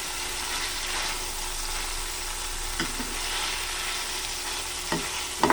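Chicken adobo being stirred in a pan over a steady sizzle, with occasional scraping clicks of the utensil against the pan, close and without talk.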